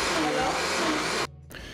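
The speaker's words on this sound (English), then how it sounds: "I'm gonna blend the tomatoes" A kitchen blender whirs loudly and steadily on grilled tomatoes, then cuts off abruptly near the end, leaving a brief hush before a quieter hum resumes.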